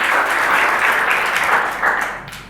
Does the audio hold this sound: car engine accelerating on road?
no